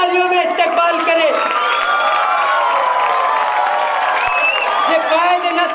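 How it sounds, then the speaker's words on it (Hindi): Crowd cheering and applauding at an outdoor political rally (jalsa) at Sailani Chowk in Malegaon as a senior leader arrives, a dense, loud, continuous roar of voices and whoops with a steady level throughout. "जोरदार तालियों में इस्तकबाल करें।"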